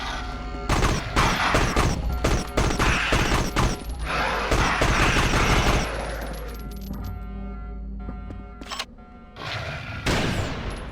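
Rifle fire in the 2003 comic-book shooter game Judge Dredd: Dredd vs Death, a loud rapid burst of shots for about six seconds, then a quieter stretch with a few scattered reports and another burst near the end.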